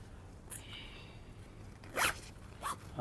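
Quick zips from a hiking camping backpack's zipper, one short pull early, then two louder rasping strokes close by in otherwise quiet surroundings.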